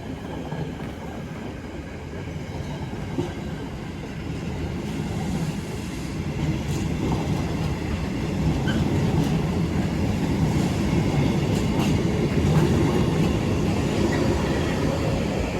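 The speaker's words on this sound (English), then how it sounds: "Oh, how many trams are we having?" A tram rumbles past close by, a low rolling roar of wheels on track that swells and grows louder as it nears, with faint clicks and squeals over the top.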